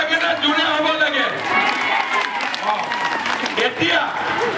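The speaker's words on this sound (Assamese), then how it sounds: "হাত চাপৰি জোৰে হ'ব লাগে নে লাহে লাহে হ'ব লাগে" Audience clapping at an event where cheques are handed to women's groups, a dense sustained round of applause mixed with crowd noise and voices talking over it.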